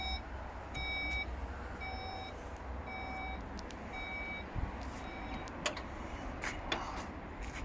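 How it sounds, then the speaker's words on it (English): A 2019 Skoda Kodiaq power tailgate closes while a steady run of evenly spaced electronic warning beeps repeats over a low hum. Soft mechanical clicks and thuds come near the end. "you can kick the tailgate to close as well"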